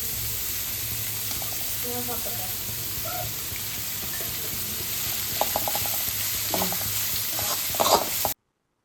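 Carrots and beans stir-fried for fried rice give a steady broadband sizzle, with scattered spatula scrapes and light clatter growing busier toward the end; no one speaks.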